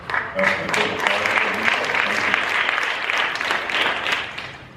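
Audience applause at a summit on mental health and addictions fills the room for several seconds: dense, sustained clapping from a sizeable crowd, steady and fairly close, tapering slightly at the end.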